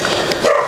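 A puppy lets out a short, close bark, a single brief yelp in an outdoor rural setting in Jamaica.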